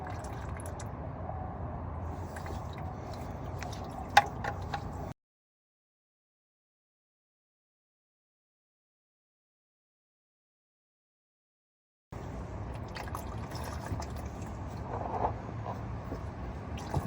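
Transmission fluid trickling and dripping from a Toyota transmission pan into a catch pan, faint and close, with a long silent gap partway through before the dribbling resumes.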